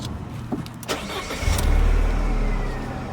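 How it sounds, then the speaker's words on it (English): A Mercedes SLK R170 engine cranks briefly and catches, settling into a loud, close, steady idle that keeps running; no voices. "car carries on running"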